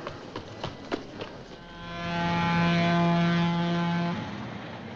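A steady horn or whistle blast swells and holds for a couple of seconds, then fades, as a train departs the gate at a station; a few footstep-like knocks come beforehand, with no talk.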